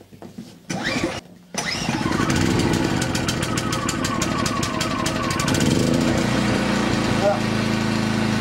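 An MXR3500 compact generator set on choke coughs with a few short bursts, then catches and settles into a loud, steady, close engine drone that holds to the end.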